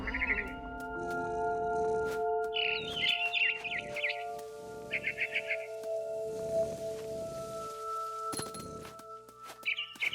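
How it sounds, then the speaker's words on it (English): Barn swallow chirps in the game What Remains of Edith Finch, bursts of high twittering calls recurring over a steady tonal ambient bed, moderately close and clear with no talk. "Then I heard chirping outside my window. It was a barn swallow going back to her nest."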